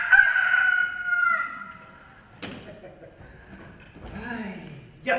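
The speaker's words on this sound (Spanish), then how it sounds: "Ya canta el gallo." A rooster crows at dawn in a staged theatrical scene, one long call near the start followed by a shorter, rougher crow later, fairly close, with quieter pauses between.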